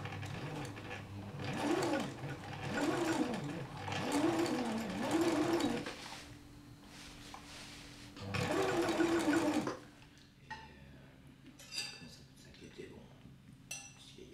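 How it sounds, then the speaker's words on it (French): A sewing machine hems a white monastic robe in a monastery, running in several bursts of rapid, steady stitching with pauses between, followed by faint clinks and light clatter. "tandis qu'il reprend à la machine à coudre les ourlets d'une coule, le vêtement blanc que les frères revêtent pour la messe"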